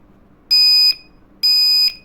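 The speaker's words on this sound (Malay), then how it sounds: "Okey, kalau buzzer." A buzzer on a freshly soldered circuit board gives two loud, even electronic beeps, each about half a second long, sounding alone.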